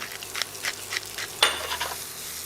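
Baby king brown mushrooms with thyme, salt and black pepper frying in a pan, a close sizzle broken by several sharp stirring scrapes and clicks, with no talking.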